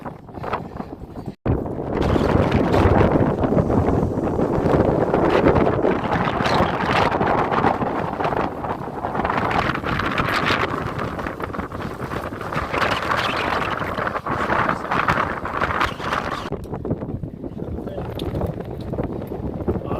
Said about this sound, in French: Pas mal de vent également.